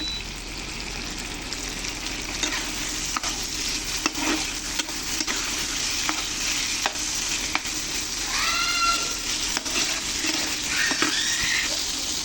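Small shing fish go into spice masala frying in a pan, giving a steady close sizzle with sharp spoon clicks and scrapes and a few bubbling pops.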